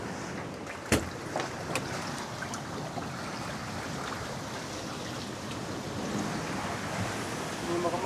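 Sea water and waves surge against a dike during a night flood, a steady wash of surf and wind noise with a few sharp knocks, and no talking.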